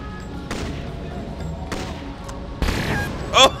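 Retro NES-style video game sniper rifle fire: a few sharp synthetic blasts, with the loudest burst near the end, punctuated by short chiptune blips and a faint background hum.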